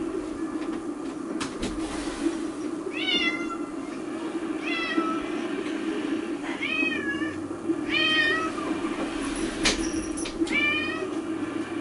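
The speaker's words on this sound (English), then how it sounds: "My damn cat is meowing at my door." A house cat meows repeatedly at a door, several distinct rising calls spaced a few seconds apart over a steady low background hum, fairly close and clear.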